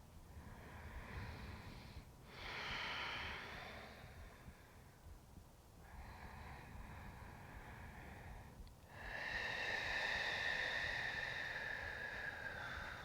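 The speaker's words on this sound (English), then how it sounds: "Listen to the sound of your breath." Slow, deep breathing during a gentle yoga practice, soft and close, with long airy inhales and exhales rising and falling in a steady rhythm over a quiet room.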